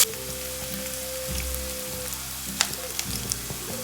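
Garlic and green chili frying in oil for parippu rasam, a steady faint sizzle and crackle close by with a few small pops and light stirring taps near the end.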